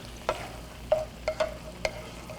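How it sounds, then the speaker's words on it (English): Sriracha sauce being stirred in a frying pan, with a few soft scraping strokes of the utensil over a faint sizzle, close and fairly quiet. "so let's stir this up."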